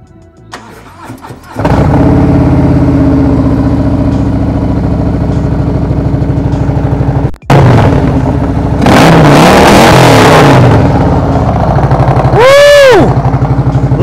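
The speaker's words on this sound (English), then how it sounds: "I put the camera behind this motorcycle with this TAB Performance exhaust" A 2019 Harley-Davidson Street Glide CVO fitted with TAB Performance 50 Cal slip-on exhausts cranks and fires up loudly, settles into a deep, lumpy V-twin idle, then snaps through several sharp throttle revs, close to the pipes.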